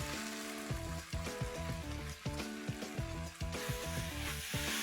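Fried vegetables for Indo-Chinese restaurant-style veg crispy sizzle steadily in a pan, a continuous close hiss with a rhythmic musical backing underneath.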